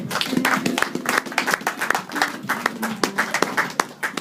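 Church congregation applauding after a scripture reading at a French-language service, crisp individual hand claps clearly audible within a lively, uneven round of clapping, with faint vocal tones mixed in.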